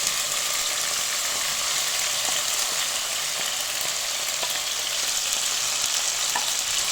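Tomatoes, peppers, potatoes, garlic, carrots and onion frying in a spoonful of ghee for lentil soup, a dense continuous sizzle with faint occasional stirring clicks, close and steady throughout.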